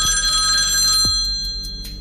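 A telephone bell rings loudly and close, one sustained ring that fades out after about a second, with a faint low hum behind it.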